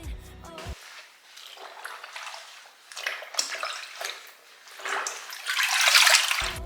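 Water runs into a sink during cleaning after dyeing a costume dress, a steady close splashing rush that swells and fades, growing loudest near the end, with no voices.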